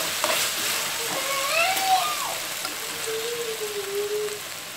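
Squid fry sizzling softly in a pan, a steady low crackle of hot oil with a few faint tonal squeaks over it.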